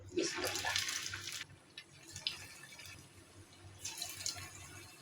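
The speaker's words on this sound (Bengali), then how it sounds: "তেল আমার গরম হয়ে গেছে এখন আমি ছোট ছোট বড়া সেবে" Small pointed gourd fritters go into hot oil, giving a loud hissing sizzle that fades after a second or so and then flares up again near the end.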